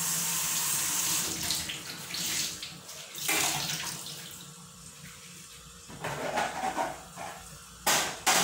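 Tap water runs into a kitchen sink while dishes are washed, a steady splashing stream that shifts and breaks as items pass under it, with occasional clinks and brief louder gushes.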